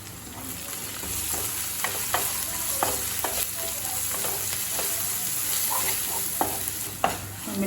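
Chicken pieces coated in chili and coriander powder sauté in a pan for a Tamil pepper chicken fry, a steady close sizzle broken by scattered scraping stirs of a spoon.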